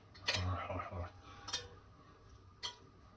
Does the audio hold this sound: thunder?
no